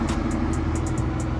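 A car accelerates away from a car meet, a steady mid-range engine drone with a rough low rumble, fairly loud and close, and no talking over it.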